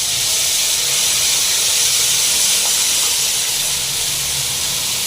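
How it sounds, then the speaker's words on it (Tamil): Mustard seeds and curry leaves sizzle in hot oil for a mudakathan herbal chutney tempering, a loud, steady hiss that fills the whole stretch with no talking. "கடுகு பொரிஞ்சு கருவேப்பிலை போட்டுடலாம்."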